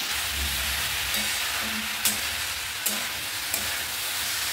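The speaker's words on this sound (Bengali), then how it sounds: "মশলাটা না ভালো করে কষানো হয়েছে" Spice paste sautéing in a pan gives a steady, low sizzle with a few soft scrapes of stirring; no one speaks.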